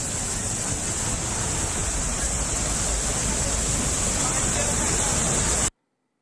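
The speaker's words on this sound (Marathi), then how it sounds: "नीरा डाव्या कालव्याला भगदाड पडले। कालव्याचं पाणी नागरिकांच्या घरात आणि शेतात शिरलंय।" Flood water gushing through a breach in the Nira left canal near Baramati, a loud, unbroken rushing roar heard up close that cuts off abruptly, with no voices.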